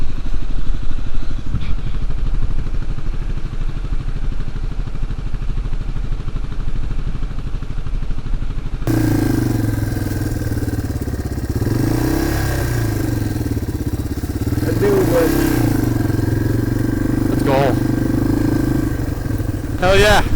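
Dirt bike engine on an overgrown wilderness trail in Vermont, a loud close motor droning and revving unevenly with some clatter, while people talk over it.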